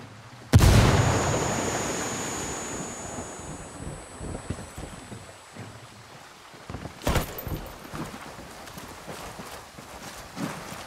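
A frag grenade explodes in the co-op shooter Ghost Recon Wildlands: one loud sudden blast that rolls off slowly, followed by quieter rumbles, wind and scattered thumps.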